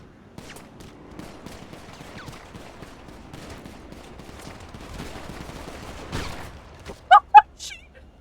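Gunfire in a GTA roleplay video game, a long run of scattered, fairly quiet rapid shots crackling on and off, with a few louder sharp bursts near the end.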